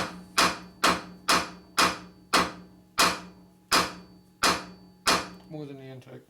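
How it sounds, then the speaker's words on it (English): A hammer strikes a 2005 Harley-Davidson Sportster XL 1200 cylinder head during a rebuild: nine sharp metallic whacks at an even pace, close and ringing, followed by a brief murmur at the end. "How many whacks of the hammer?"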